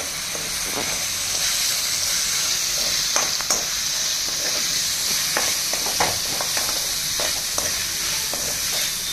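Tomatoes and halved green chilies fry in a pan for chicken biryani, giving a steady close sizzle with repeated scrapes and clinks of a stirring spoon, with no talk.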